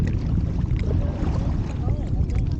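Wind buffets the microphone during a family kayak outing on the water against the current, a loud continuous rumble with faint splashing and paddle sounds mixed in.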